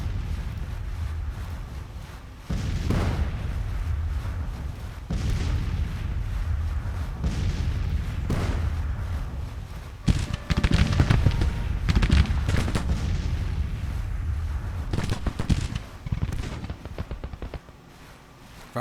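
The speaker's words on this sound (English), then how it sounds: "Firing canister through woods is not going to help that battery." Artillery battery firing canister in the Civil War strategy game Grand Tactician: loud repeated booming blasts with dense crackling volleys, heaviest in the middle stretch, over a constant low rumble.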